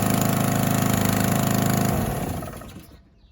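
Gas-powered roof pump engine for siphoning chemicals runs loud and steady up close, then its pitch drops and it winds down to near silence.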